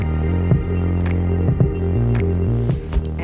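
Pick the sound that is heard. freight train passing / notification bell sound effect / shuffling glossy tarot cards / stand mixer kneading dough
stand mixer kneading dough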